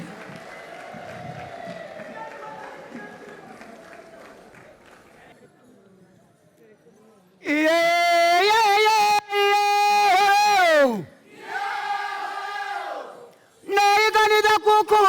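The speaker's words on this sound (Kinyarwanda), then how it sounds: "Impundu zanyu yemwe." An audience at an Intayoberana troupe performance in Rwanda gives a murmuring cheer that fades, then breaks into loud, high, wavering ululations in several long bursts with short gaps between them.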